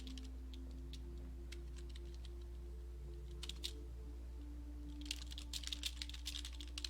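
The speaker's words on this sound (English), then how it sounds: "Oh no, I hear these random buttons clicking." Computer keyboard keys click faintly in scattered taps and short quick runs over a steady low electrical hum, with no voices.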